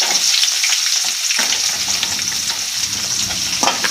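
Green chillies and onion fry in a pan with a loud, continuous close sizzle, joined by rustling stirring strokes partway through, with no voices.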